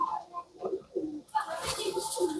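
Soft, low coos from a pair of Rampuri pigeons repeat close by, then a burst of brighter rustling or flapping noise joins in.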